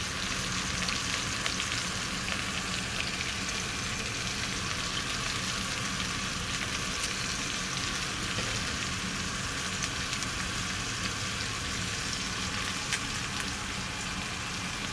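Garlic, onions and mixed vegetables frying in a pan for chicken egg fried rice, a dense, even hiss of sizzling oil that holds steady throughout with faint occasional stirring, close and without talk.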